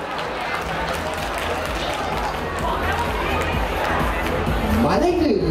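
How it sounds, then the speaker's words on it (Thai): An audience at a cosplay contest event applauds the contestants, a dense, continuous wash of clapping and crowd noise that swells slightly, with a voice speaking over it at the end. "ขอเสียงปรบมือให้กับผู้เข้าแข่งขันของ"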